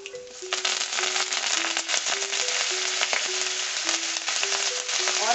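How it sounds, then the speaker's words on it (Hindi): Curry leaves dropped into hot oil with green chillies sizzle in a pan, a steady, fairly loud crackling hiss that runs the whole time with sharper pops scattered through it and no one talking. "एक क्विक स्टर देने के बाद हम डाल देंगे इसमें कड़ी पत्ता"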